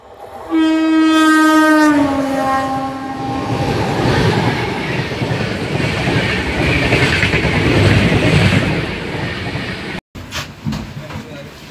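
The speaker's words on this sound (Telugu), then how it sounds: "ధర్మవరం నుంచి మచిలీపట్నం వెళ్ళే ఎక్స్ప్రెస్." A Dharmavaram–Machilipatnam express train sounds a loud, close horn blast, then rumbles past with rolling wheel noise and rattling carriages that persist, ending with a brief cut and scattered clanks.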